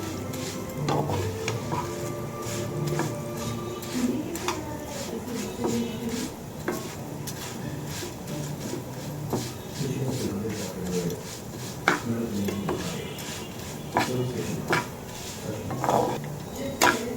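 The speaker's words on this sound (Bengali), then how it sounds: "সেমাইগুলো একটু ভাইজা নিব আমি ঘিয়ের মধ্যে আর তৈলের মধ্যে" Vermicelli (semai) frying in ghee and oil in a pan gives a soft continuous sizzle, broken by repeated stirring scrapes and clinks of a utensil against the pot, with a person talking over it.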